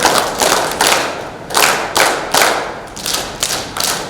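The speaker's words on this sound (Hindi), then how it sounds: "तो उसके लिए हम लोग तालियां बजाएंगे" A group in a one-day district-level worker training session claps together in a few rhythmic bursts, loud and close, with no talk over it.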